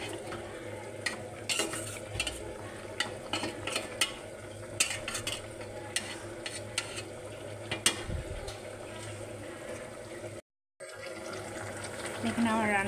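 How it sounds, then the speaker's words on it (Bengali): Chicken curry with onion and spices sizzles and sautés in a pan while a spoon scrapes and stirs in steady, repeated strokes, close and continuous, with a brief break near the end. "দেখেন আমি এটা সুন্দর করে কষাই নেব যাতে হচ্ছে সব মশলাটা এটার ভিতরে ঢুকে।"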